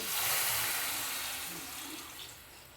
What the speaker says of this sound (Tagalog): Maglagay na tayo ng tubig. Isang basong tubig.